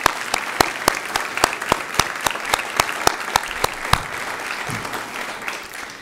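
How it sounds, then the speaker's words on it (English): Audience at a student teacher recognition ceremony at Pittsburg State University applauding, a dense, steady patter of many hands with sharp individual claps standing out, fading slightly toward the end. "And let's give them a round of applause."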